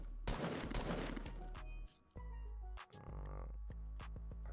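Gunfire in Fortnite Creative mode at an aim-practice course, a dense burst of rapid shots followed by scattered single reports and brief pauses, loud and close.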